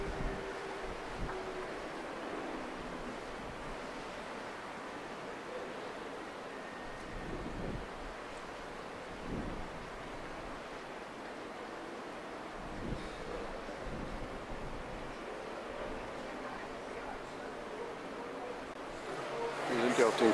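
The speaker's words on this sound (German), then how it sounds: "Angenehmer Wind." Wind and surf along the Cayman Islands coast make a steady, moderate rushing wash with a few louder gusts buffeting the microphone, and a voice talks over parts of it.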